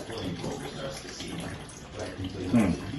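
Tap water pours steadily into a large homebrew pot being filled toward about five gallons, a continuous close rushing splash with a louder surge near the end.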